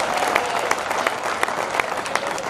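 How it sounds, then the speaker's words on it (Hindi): Audience applause at a Hindi comedy poetry gathering (hasya kavi sammelan), a short burst of dense, steady clapping from a live crowd. "हाँ ताली बजाया, ऐसे काम नहीं चलेगा"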